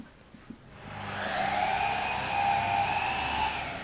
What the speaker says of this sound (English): That's Kerry in the background cutting up some cypress for veggie beds